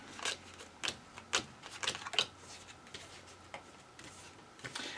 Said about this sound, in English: Oh, I got to do the whole shuffle.